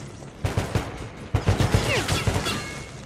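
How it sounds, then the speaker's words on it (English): Gunfire in the video game Metro: Last Light, a burst of sharp shots in quick succession that opens into rapid repeated firing, loud and close, with a few brief metallic game effects in between. "So he stopped shooting me in the back."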